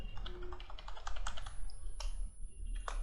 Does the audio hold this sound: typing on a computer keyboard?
yes